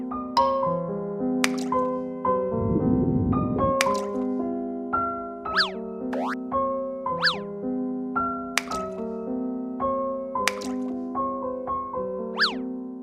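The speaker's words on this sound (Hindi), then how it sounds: "अपनी इस तरकीब की सफलता से खुश होकर वह दुगने उत्साह से घड़े में पत्थर डालने लगा।" Cartoon stones drop one after another into a clay water pot as a thirsty crow fills it, giving bright plinking, bloopy drips with rising pitch over a soft backing tone, plus a short splashy burst early on.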